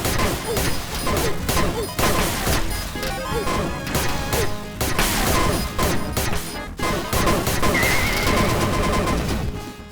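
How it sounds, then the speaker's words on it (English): Explosions and heavy gunfire in an indie first-person shooter game: a loud, dense barrage of crashing blasts and rapid shots that runs almost without a break. "Bomb blast."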